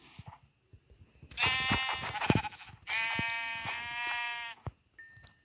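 A Minecraft sheep bleats twice in long, wavering calls, close and clear, with faint clicks and quiet gaps around them.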